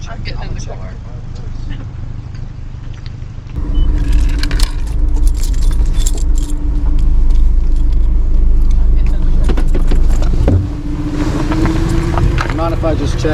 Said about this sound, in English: I left the keys in your cup holder there.